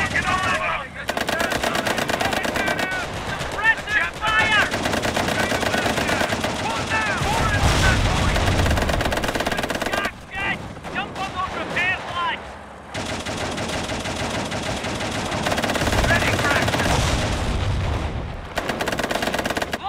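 Dense bursts of machine gun fire roll almost continuously through a Company of Heroes battle, loud and close, with heavier booms and brief gaps between volleys and battlefield voices calling over the din.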